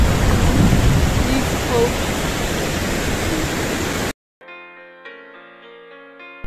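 Water pours steadily over a weir on the River Ribble in limestone country, a loud broadband rush for about four seconds before it cuts off abruptly, followed by a brief spoken word over quiet tonal sound.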